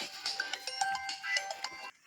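A mobile phone ringtone plays in a short, bright melodic tune of quick repeated notes, fairly faint and alone for about two seconds before cutting off.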